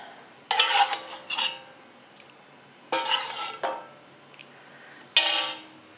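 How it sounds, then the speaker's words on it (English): Tongs toss lamb ragu pappardelle in a metal pan, giving three separate bursts of clanking and scraping metal, each about a second long, with near-silent pauses between. "And then we'll just mix that together with our tongs."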